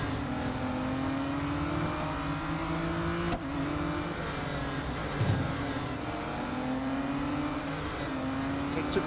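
Race car engines drone in the Real Racing 3 video game at a V12 track day, a steady whining roar with shifting pitch as the cars accelerate and lift, continuous and close.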